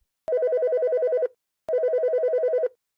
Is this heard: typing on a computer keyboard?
no